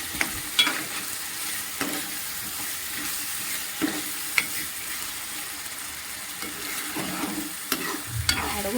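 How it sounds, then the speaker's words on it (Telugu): Masala for an Andhra-style chapala pulusu fish curry sizzles steadily in a pan while a spoon stirs it, scraping and tapping now and then, close up and with no talking. "బాగా కలుపుతూ ఉన్నాను"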